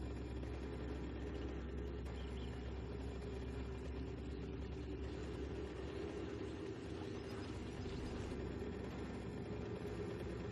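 A mini bike engine drones steadily while riding in the 7 Days To Die survival game, a constant low rumble with faint revving and no talk.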